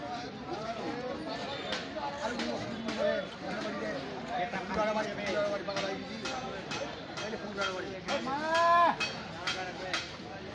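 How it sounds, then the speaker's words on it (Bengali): Young bulls and heifers at a busy rural cattle market bellow and low now and then amid a crowd of voices, with one louder moo rising near the end. "আমরা এই পাশে আরো কিছু ছোট ছোট ষাঁড় বকনা দেখছি"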